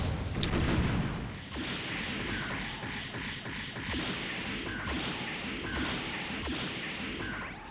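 Dumbfire missiles from SD Gundam Online launching and striking targets in rapid succession, with sharp whooshes and crashing impacts layered over busy, continuous game noise.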